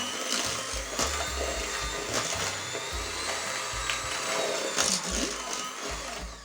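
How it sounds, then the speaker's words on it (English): A motorized mixer whirs steadily as it creams sugar and butter for a marble cake, a continuous buzzing hum with small clatters from the bowl, fairly loud and close throughout. "you have to mix sugar and butter until it becomes fluffy"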